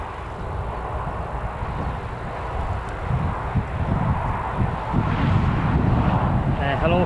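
Aircraft taxiing on the runway at Newcastle Airport, a steady broadband engine rumble that swells slightly toward the end, heard at a moderate distance with continuous background noise.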